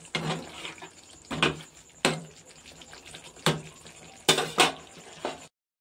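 Prawn curry stirred in a pan, a spoon knocking and scraping against the metal in a few sharp, separate clacks, close up with no talking.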